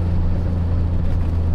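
A Suzuki Cappuccino engine pulls at full power from inside the small car, giving a loud, steady low drone with a strong rumbling buzz throughout the brief moment and no voices.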